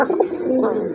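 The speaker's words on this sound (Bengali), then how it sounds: "3 পিস কবুতর আছে মাশাআল্লাহ" Fancy pigeons coo in a low, throaty stream close by, a steady warbling murmur lasting about a second with no talk.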